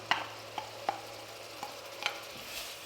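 Onion, ginger and garlic fry in foaming butter for dal makhani, a steady soft sizzle broken by a handful of sharp spoon scrapes and taps against the pan, close and fairly quiet.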